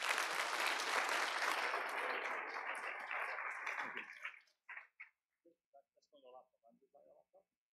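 Audience applause at an academic conference session, a dense, loud burst of clapping for about four seconds that fades out, followed by scattered faint taps and small sounds in a quieter room.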